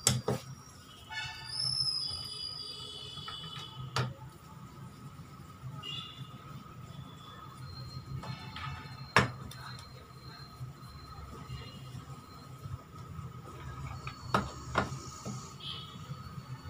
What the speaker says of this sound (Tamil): அதனால் ரிவர்ஸோட போல்ட்டு நான் லூஸ் பண்ணிக்கிறேன்.